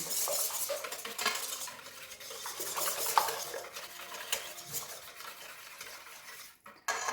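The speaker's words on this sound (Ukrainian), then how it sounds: "Це все добре вінчиком перемішуємо, щоб яєчна маса змішалася з молочним." Eggs, milk and refined oil whisked together in a bowl, a rapid continuous clatter of wire whisk against the bowl, close and moderately loud, with a brief pause near the end.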